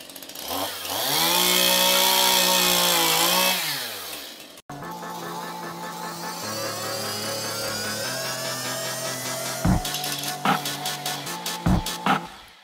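Chainsaw engine revving loudly and up close, pitch rising and falling, then continuing in a steady drone that is layered with rhythmic, musical-sounding pulses and sharp hits.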